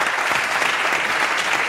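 Studio audience on a French television show applauding George Michael, with dense, continuous clapping that fills the room at an even, strong level throughout.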